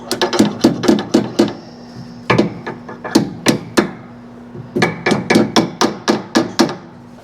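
Hammer tapping snowmobile parts into place during a wrench day, with short sharp metallic knocks in quick bursts of several blows and brief pauses between groups.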